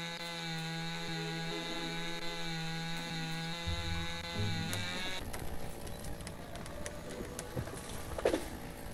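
Chainsaw in the logging game Lumberjack's Dynasty: a steady, buzzing engine drone that shifts into a rougher, noisier cutting sound partway through, with a sharp knock near the end.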